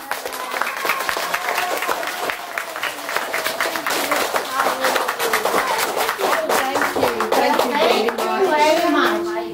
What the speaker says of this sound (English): Can we give Granny a round of applause, please?